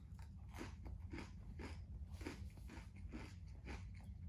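Close, rhythmic crunching and chewing of a white cheddar Nature Valley bar full of seeds, with about eight distinct bites over steady low mouth noise and no talking.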